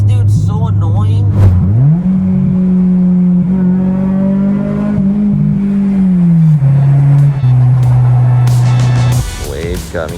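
A Honda Civic Si with a newly installed aftermarket exhaust revs and pulls hard close up, its engine tone climbing, holding, then dropping between gear changes, with a brief voice over the drone near the end.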